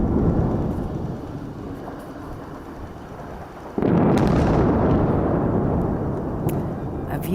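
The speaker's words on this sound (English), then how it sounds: "Israel is stepping up its attacks on Beirut with new videos showing massive explosions, plumes of smoke" A heavy explosion from an Israeli strike on Beirut booms out over a rumbling background, a sudden loud blast about halfway through followed by a long, roaring wash of noise in news footage.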